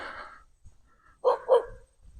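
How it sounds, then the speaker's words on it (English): Two quick barks from a dog at a house along a rural road, moderately close and alone after a brief stretch of quiet outdoor background. "There's a dog."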